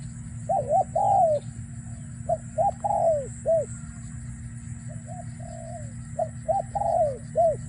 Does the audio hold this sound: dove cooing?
yes